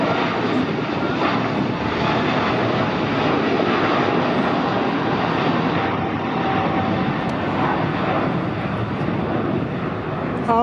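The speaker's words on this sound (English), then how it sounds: "Japan Airlines headed out to Tokyo Narita." A Japan Airlines heavy jet departing LAX for Tokyo Narita produces a continuous, loud, broad engine roar that holds steady throughout, with faint voices in the background.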